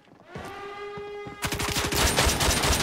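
Shotgun and revolver gunshots in the shooter game Arena Breakout, a rapid burst of loud close shots packed into the second half after a short tonal game sound.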